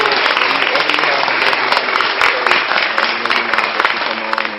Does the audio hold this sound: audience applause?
yes